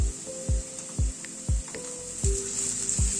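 Carrots dropped into a pan of frying potatoes, a steady hiss of oil with several sharp thumps and scrapes as the vegetables are stirred, close and fairly loud.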